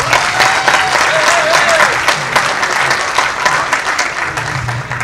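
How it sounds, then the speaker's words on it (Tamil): Loud, full audience applause for a film director at a Tamil event, dense continuous clapping with a faint whistle or cheer early on, easing off slightly toward the end. "அவருக்காக ஒரு பெரிய கரகோஷத்தை கொடுக்கணும்னு ஆசைப்பட்டேன்."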